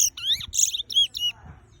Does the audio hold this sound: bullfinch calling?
yes